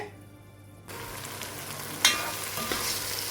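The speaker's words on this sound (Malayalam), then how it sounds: "ഇനി നമുക്കിത് കുറച്ച് നേരം മൂടി വെച്ചിട്ട് എണ്ണ തെളിഞ്ഞ് വരുന്നത് വരെ വേവിച്ചെടുക്കാം." Masala frying in oil for egg and vegetable pulao, a close, steady sizzle that swells after a quiet start, with a sharp stirring scrape partway through.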